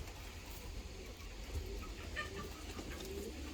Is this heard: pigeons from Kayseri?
yes